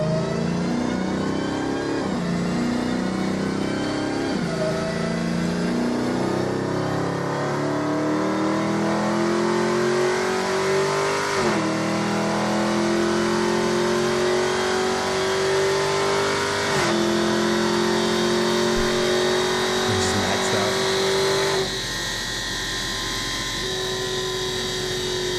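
Supercharged Dodge SRT Hellcat engine revving from inside the cabin, a loud continuous drone rising in pitch through several pulls with gear shifts between them, supercharger whine on top, no talking.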